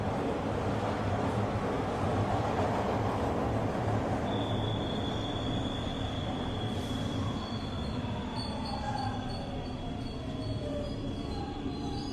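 A simulated train rolls along continuously in a railway video game, wheels squealing with a steady high whine over a dense rumbling roar, loud and close throughout.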